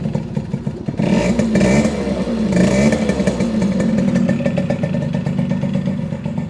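A 1974 Yamaha RD60 small two-stroke motorcycle engine running off an auxiliary fuel tank, a buzzy, wavering idle with a couple of quick revs early on, close and steady without speech.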